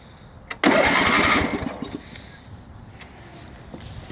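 A Toro 825 riding lawnmower engine cranks and catches with a loud burst, running strongly for about a second before settling to a quieter idle, with no talking over it.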